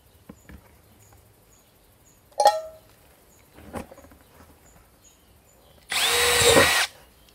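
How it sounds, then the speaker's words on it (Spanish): A power drill bores a hole in a metal can for a recycled percussion instrument, one loud whirring burst lasting about a second, preceded by a few scattered taps and clunks in a quiet room. "Así que voy a hacer el agujero."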